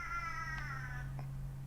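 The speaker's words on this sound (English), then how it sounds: "That's the cat, he makes noises." A cat meows in one long, drawn-out wavering cry, then gives a brief fainter chirp, close by over a steady low hum, with no talking.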